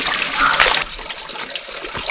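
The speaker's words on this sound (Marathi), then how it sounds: "गेट नंबर 5 आहे, त्यातून थोडं पाणी निघतं." Water leaks through a closed gate of a dam on the Nar river, a steady splashing and trickling rush heard close by, louder at first and then settling into a continuous flow.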